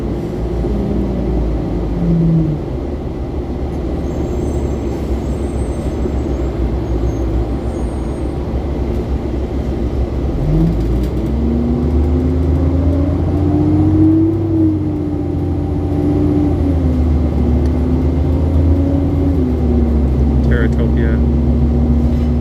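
City bus on a Toronto street by Humber Bay Shores, a loud, continuous engine roar with a rising whine as it moves off, air-brake hiss and traffic around it, heard up close.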